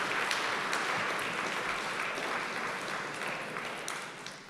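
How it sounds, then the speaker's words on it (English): A room of guests at a university computing Hall of Fame ceremony gives a steady round of applause, even dense clapping throughout, gradually easing slightly toward the end. "please join me in a round of applause for all of our Hall of Fame"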